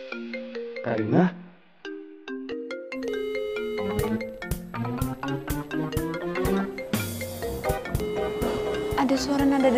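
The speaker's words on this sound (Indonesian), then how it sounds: "Ada suara nada deringnya Ciko di sini." A mobile phone ringtone rings in a melodic, chiming pattern of repeated tones, building and continuing steadily throughout at moderate loudness.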